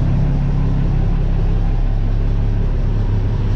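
Jet ski or boat engine idling steadily right after starting, a loud, close, continuous low rumble with no talk over it.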